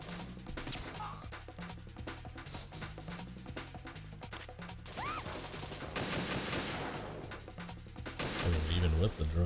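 Rapid bursts of gunfire fill the Metal Gear Solid 2: Substance game, with loud repeated shots, crashes and game sounds building toward a heavy blast near the end; some voices come through the game audio.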